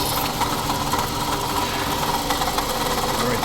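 Engine of a 2007 Scion tC running with the AC compressor engaged, a constant close rough grinding drone with a rattly, vibrating edge and no talking.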